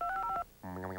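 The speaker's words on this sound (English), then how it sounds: "Rocket, show us how easy it is to dial 1-800-COLLECT" Telephone keypad dialing tones for a 1-800 collect call number, a quick run of short paired beeps followed by a longer buzzy tone, close and clear with no talking.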